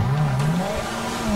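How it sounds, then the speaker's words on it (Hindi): Maruti 800 car with disc brakes driving in GTA 5, a steady engine drone rising and falling in pitch with a faint tire squeal, loud and continuous throughout. "डिस्क ब्रेक के साथ मेरी गाड़ी जो है बहुत सही चल रही है, बहुत ज्यादा सही"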